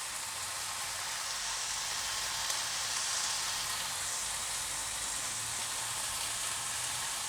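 Onions fry steadily in a pan for a bitter gourd side dish, giving off an even, close hiss and crackle of sizzling oil with no pauses.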